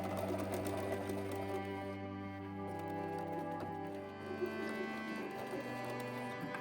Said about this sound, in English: we're going to baste a stitch 1/4 of an inch all the way over